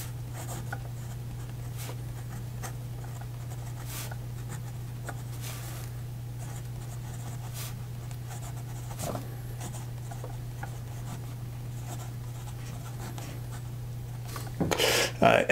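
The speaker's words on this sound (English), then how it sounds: "So here we go with the rest of the writing sample." A Parker 51 fountain pen with a very fine, stiff nib scratches steadily across paper, a quiet continuous rasp with small irregular strokes under a low constant hum, ending in a few louder rustles.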